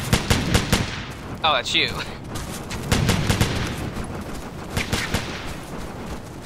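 Bursts of gunfire from the Operation Flashpoint: Dragon Rising battlefield, several sharp volleys crackling back to back, with someone speaking briefly over the shots.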